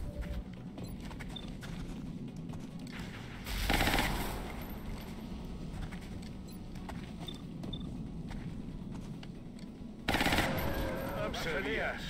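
Gunfire from the XCOM Long War strategy game: two loud, dense bursts of rapid shots, one short and one longer near the end, over a steady low rumble of in-game background noise.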